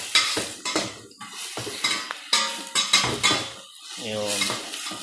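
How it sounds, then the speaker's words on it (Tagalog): Crab being stirred in a metal cooking pot, with a utensil scraping and clanking against the sides in repeated close, fairly loud strokes, and a faint sizzle underneath. "haluin natin hanggang sa medyo maluto na siya"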